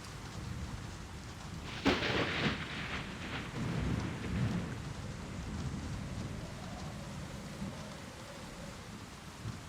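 Rain and thunder in the Life Makeover game: a steady rain hiss with a sharp thunder crack followed by a rolling rumble that fades under continuing rainfall.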